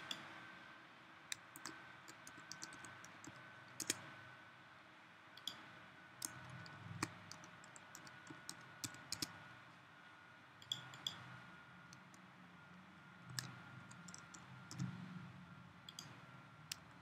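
Typing on a computer keyboard while entering department heads into a SharePoint list, a faint, irregular run of light key clicks in small clusters over a quiet room hum.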